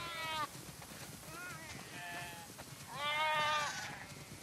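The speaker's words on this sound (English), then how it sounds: "Wow, that's a lot of sheep." A flock of sheep bleats in the snowy farm area of the video game The Last of Us Part 2, several overlapping calls rising and falling over steady ambient noise, fairly close, with a voice speaking faintly among them.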